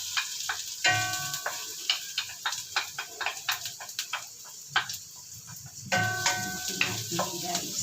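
Ginger and garlic go into a pan with onion for chicken tinola, giving a soft sizzle under frequent light clicks and scrapes of a spoon against the pan. A voice speaks over the frying at times.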